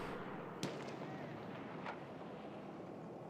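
Faint gunshots from a Halo Xbox One tournament match crack twice, once sharply early on and once more softly, over a low, steady background rumble.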